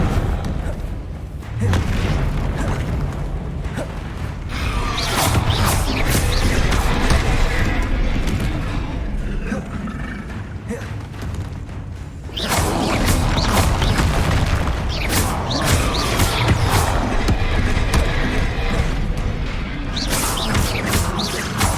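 Spell blasts from Incendio, Confringo and Expelliarmus in Hogwarts Legacy land in a dense, continuous barrage of loud booms, thuds and crashing impacts, with a brief lull before the chaotic combat resumes at full intensity.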